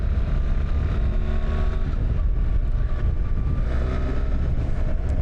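A BMW R1300GS motorcycle pulls away under power with a loud, steady engine drone and rising harmonic tones close by. Wind rush runs underneath.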